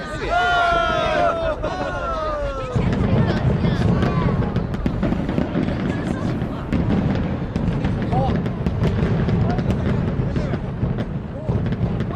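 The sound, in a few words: fireworks exploding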